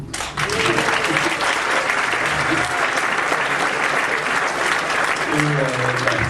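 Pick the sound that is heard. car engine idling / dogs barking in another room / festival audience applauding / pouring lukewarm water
festival audience applauding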